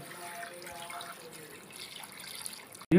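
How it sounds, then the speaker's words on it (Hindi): Two liters of water poured into a pot of spices for yakhni pulao, a steady trickling, splashing stream lasting a few seconds before a brief clunk at the end. "अब हम इसमें 2 लीटर पानी शामिल करते हैं।"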